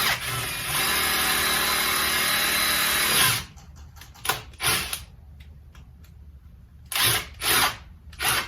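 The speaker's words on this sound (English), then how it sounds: "I'm just gonna drill a hole below it." A power drill whines loudly for about three seconds as it bores a hole through a plastic bucket, then several short bursts of drilling and handling clatter follow.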